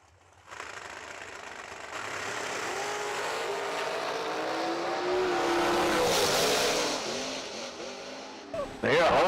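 Drag racing cars launch and roar down the strip at a Summer Fling event, a loud sustained engine howl that builds and peaks before a sharp final burst, with a commentator talking over it.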